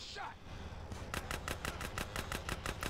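An automatic weapon in GTA: San Andreas fires a fast, evenly spaced burst of about a dozen sharp shots, preceded by a short swooshing sound, fairly close and clear.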